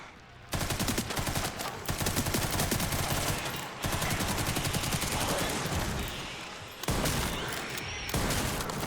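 A machine gun in Resident Evil Requiem fires loud, rapid, sustained bursts with short breaks between them, close and dense, with no talking.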